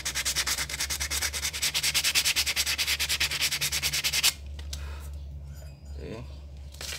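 Close, brisk rasping of sandpaper worked back and forth over Honda Vario 150 clutch shoes for about four seconds, then the strokes stop and only faint handling noise remains.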